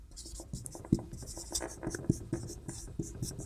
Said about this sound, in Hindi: लिखते हैं इसको,